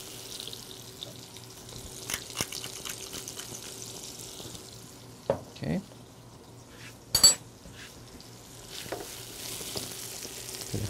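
Vegetables fry and brown in a pan with a faint background sizzle, broken by a few clinks of utensils against cookware and brief scraping stirs.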